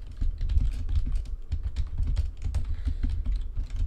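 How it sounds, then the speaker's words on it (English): Rapid computer keyboard typing, close and fairly loud, with steady irregular key clicks running through the whole stretch during a Minecraft build battle, with no talking. "What's Mitch typing"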